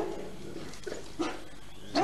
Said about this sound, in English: And we've got some doggies there, look.